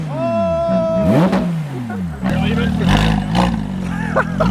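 Straight-piped BMW M4 F82 exhaust revving loudly, its engine note sweeping up and down with crackles, mixed with other passing car sounds and people talking over it.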